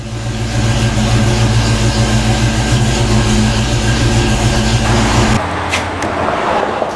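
A Fox-body Ford Mustang's engine idling steadily up to operating temperature, a loud close low rumble that drops away near the end into quieter background clatter and handling noises, no talking.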